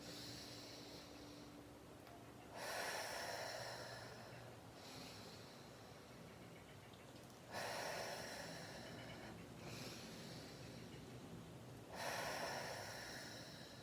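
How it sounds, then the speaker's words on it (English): Slow, deep breaths drawn in and let out, three long rushing inhales each followed by a quieter exhale, close and steady during a calm body-positive exercise with no talk. "breathe in and out"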